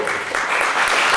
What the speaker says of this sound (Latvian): aplaus arī Sanitai